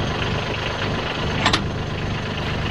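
Branson tractor engine idling steadily while a quick-release backhoe is being hooked on, a constant low throb with a brief metallic clank partway through.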